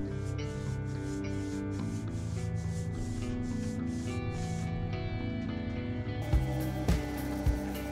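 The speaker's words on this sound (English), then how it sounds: "going to give it all a sand" Sanding a live edge walnut coffee table, a steady rhythmic rubbing and scraping over wood with repeated strokes, close up, ending in a few knocks.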